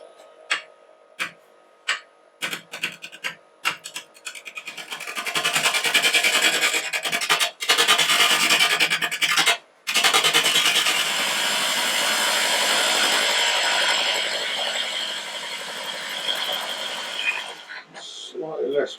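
A wood lathe spins a wormy ash log as a gouge takes rough cuts off it, giving a sustained rasping, scraping roar close up, broken by short pauses and a few sharp ticks at the start.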